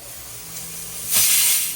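Broken wheat (dalia) dropped into a hot pot with tomatoes sets off a loud, sudden sizzling hiss that swells and holds steady, close up over faint kitchen background.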